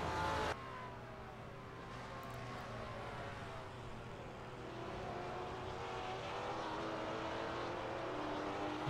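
Porsche and Maserati race cars in Gran Turismo 4 at Imola, engines droning steadily and loudly as they accelerate, a continuous layered roar with a sharp change at the start and rising slightly toward the end.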